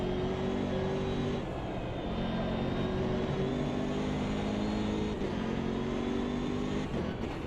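BMW race car in Automobilista 2 on cold tyres, its engine droning steadily with repeated rising gear pulls and brief shift drops, loud and close throughout.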